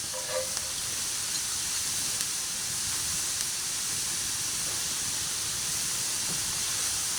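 Chopped shallots sizzling in a couple knobs of butter in a warm pan, heard as a steady, even hiss that holds at the same level for the whole stretch, with no voices over it.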